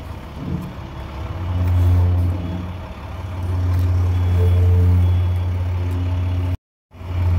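A Class A tractor-trailer truck maneuvers during parallel parking in New York City, its engine droning steadily and loudly close by, swelling with revs and easing back, then cutting out briefly near the end.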